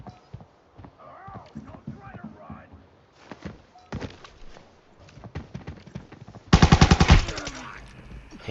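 A bot fires an automatic gun in the shooter Arena Breakout, a loud, close burst of rapid shots lasting under a second, after scattered thuds and footsteps while someone talks.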